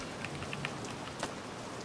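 Rain falls steadily in Bioshock Infinite, a quiet, even hiss of patter with a few scattered drop ticks and no talking.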